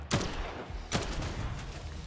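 Two sharp gunshots from a firearm in the zombie video game Dead Island 2, spaced nearly a second apart, each a loud broadband crack with a brief low thump, followed by a lingering noisy game ambience.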